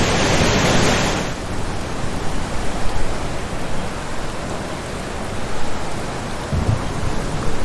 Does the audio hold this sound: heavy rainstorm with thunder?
yes